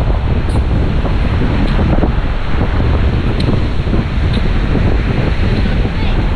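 Heavy surf from a typhoon churns on and on while strong wind batters the microphone, a loud, continuous roar of sea and gusts with no break.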